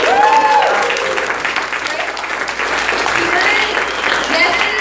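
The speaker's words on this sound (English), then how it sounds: "So you got to applaud the entire time" Steady applause from a crowd continues throughout, with voices mixed in under the clapping.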